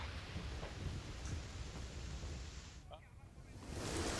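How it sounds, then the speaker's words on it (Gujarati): Heavy monsoon rain pours over the flooded Bopal area of Ahmedabad, a dense, steady hiss that stays loud and unbroken throughout and swells slightly near the end. "જે રીતે અમદાવાદ શહેરમાં વરસાદ થઈ રહ્યો છે"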